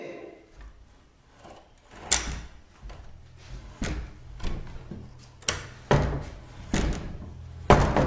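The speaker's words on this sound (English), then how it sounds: "They push this door open, but are too scared to enter." A door is pushed open with a series of knocks, thumps and creaky bangs, some sharp and loud, spread irregularly through a tense scene with faint background sound.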